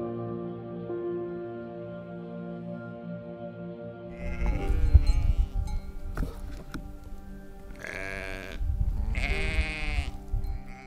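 Sheep on a Bosnian farm bleat in a few close, drawn-out calls in the second half, over a steady low background hum.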